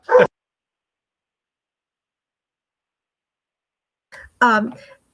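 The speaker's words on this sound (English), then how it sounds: "While Kyle is on mute here, while his doggy's barking" A dog barks during an online committee meeting, one short sharp bark, then a pause of silence, then a couple more yips and a bark close to the microphone.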